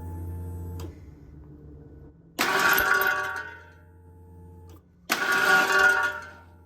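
A Ford 5.0 V8 pulled from an Explorer cranks over on the starter with its plugs out for a compression test, in two loud bursts of a couple of seconds each separated by a quieter hum.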